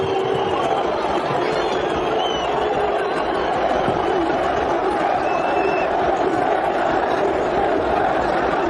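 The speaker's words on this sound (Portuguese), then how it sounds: "ouça aí a torcida" São Paulo FC supporters fill a stadium with a dense, steady roar of crowd noise and chanting, loud and continuous throughout with no pauses.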